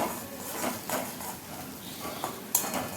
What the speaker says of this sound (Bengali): আর এখানে আমি এই মশলাটাকে খুব ভালো করে কষিয়ে নিচ্ছি